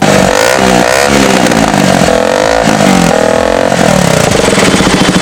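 Loud modified motorcycle exhaust revving hard and continuously, the engine note rising and falling in repeated throttle blips with a rough, crackling edge.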